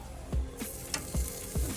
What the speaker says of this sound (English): each time I flip it, we're getting more and more sizzle